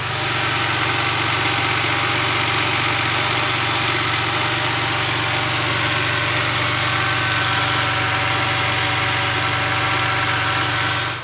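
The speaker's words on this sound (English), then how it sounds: "And the engine is sounding even better than it was before." A car engine idles steadily just after being started, a loud, even mid-low rumble held alone for about eleven seconds with no voices.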